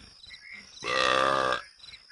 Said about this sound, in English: Thanks for burping.